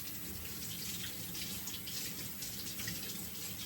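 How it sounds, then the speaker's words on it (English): Water from a kitchen tap runs steadily as an item is washed under it, a continuous close hiss and splash with faint shifting spatters and no talking. "I'm going to go ahead and wash it real quick"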